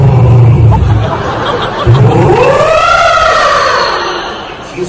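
A male comedian on a live comedy stage imitates a motorcycle starting with his voice, producing rising, revving whine-like sweeps that climb and fade over a few seconds, with audience babble and laughter underneath.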